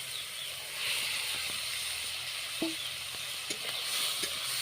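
Already-fried potato and eggplant pieces go into a hot pan of spiced fish curry base, giving a steady soft sizzle and hiss with a few light clinks of a spatula scattered through.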